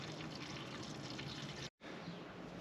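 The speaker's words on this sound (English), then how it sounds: "you're going to hear bubbling coming from all the pipe work" Water fills caravan waste pipes with a steady, hissing, gurgling rush that cuts out for a split second and then resumes.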